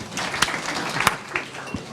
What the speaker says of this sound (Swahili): Tumpigia makofi.